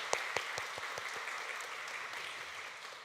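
A church congregation claps during a thanksgiving service. Several sharp, distinct claps open the burst, then blend into a soft wash of applause that fades. The whole burst is faint and distant, with no voices.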